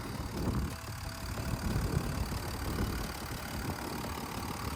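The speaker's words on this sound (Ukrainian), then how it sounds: "Працює тихесенько, чистесенько ніяких посторонніх звуків" A BMW X5 M50d G05 with a 400 hp quad-turbo diesel engine idles quietly and steadily up close, a smooth, even low rumble with no voices over it.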